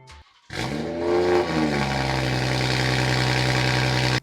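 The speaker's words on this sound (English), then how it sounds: "I just manually opened the flap because I have to hear what it sounds like with, well, the flaps open." A BMW 340i engine with its exhaust flaps manually opened fires up with a sharp bark, rises briefly in revs, then settles into a loud, deep, steady droning idle close by.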